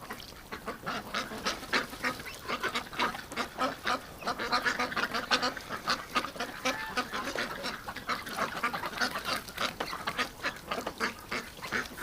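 A bunch of ducks in a bathtub of fresh water quack and honk constantly, their loud, overlapping calls tumbling over one another up close throughout.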